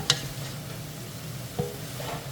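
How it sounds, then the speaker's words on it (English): A spoon scrapes and stirs broccoli sautéing in a pot on an outdoor stove, seasoned with Himalayan salt; two brief clinks stand out over a soft, steady sizzle, quiet and close. "I'll drop a little salt in our broccoli here. A nice Himalayan salt. Okay, give this a good stir."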